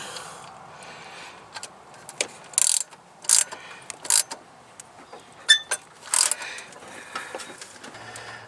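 A ratchet tightens the water pump bolts on a 1998 Sonoma pickup, with short bursts of rapid clicking repeating every second or so against a quiet background, close by.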